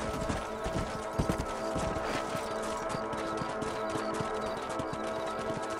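Horse hooves clip-clop steadily as a rider travels in Red Dead Redemption, a brisk repeating beat of sharp hoof strikes over a soft background bed, with no speech.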